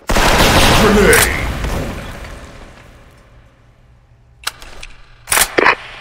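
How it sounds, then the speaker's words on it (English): Grenade blast in a missile combat video game, a loud boom that fades into a long rumble, followed by several sharp bursts of gunfire, with in-game voices calling out. "Enemy overhead! Grenade!"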